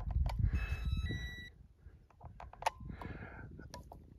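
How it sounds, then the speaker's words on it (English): Electronics aboard an RC jet boat emit a series of steady high warning beeps during the first second and a half at a pond, mixed with motor and water noise, then fade into rougher outdoor sounds. "It's beeping at me. It didn't like something I did."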